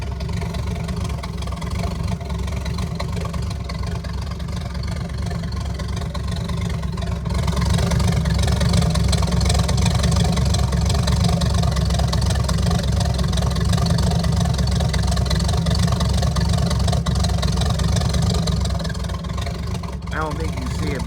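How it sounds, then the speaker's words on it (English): The engine of a 1982 Ford idles steadily and close by after a fuel pressure regulator install, with a rough, loping rumble that grows slightly louder partway through. The idle runs continuously for the whole stretch. "it's not loping as hard, and it's not blowing black smoke out of the tailpipe like it was before"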